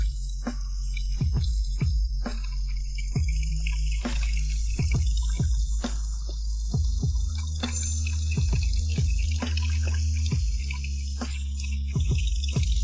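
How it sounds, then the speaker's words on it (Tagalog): Tap water runs hard and steadily into a sink during washing up, a constant low rush with repeated drips and splashes near the microphone, and no speech over it. "Ang lakas ng tubig mo, nasasayang ang tubig."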